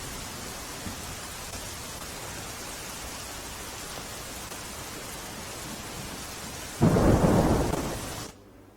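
Steady heavy monsoon rain hisses throughout in Dahod district, Gujarat, then a loud rumble of thunder swells near the end before fading.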